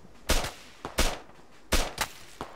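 Five sharp, loud gunshot cracks go off in an uneven sequence during a military simulation game outdoors, each a short, close bang with a quick decay.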